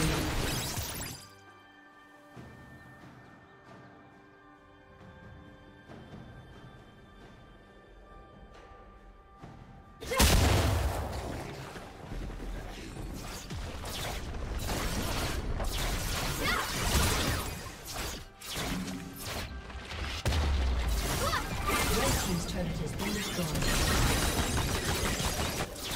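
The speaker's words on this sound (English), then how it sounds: "Blue team's turret has been destroyed." A turret being destroyed in League of Legends, heard as a sudden loud crashing, shattering burst after a quieter stretch, followed by sustained rumbling game effects and noise.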